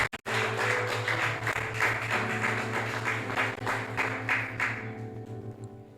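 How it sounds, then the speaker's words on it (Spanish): A church congregation applauds together on a Sunday morning, a dense, steady wash of many hands clapping for several seconds with a musical tone held underneath, before the clapping thins out and fades. "Démosle una ofrenda de palmas al Señor esta hermosa mañana."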